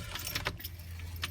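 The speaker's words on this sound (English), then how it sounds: "Let's try put the key in" Keys jangle and scrape as a key goes into the ignition of a Renault Master van with a transponder immobiliser fault, a short close metallic rattle over a low steady hum.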